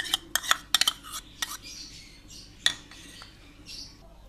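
Spoon clinking against a bowl while yogurt is whisked, a few sharp bright taps in a quick cluster, then scattered single clinks, close and fairly quiet in a still room.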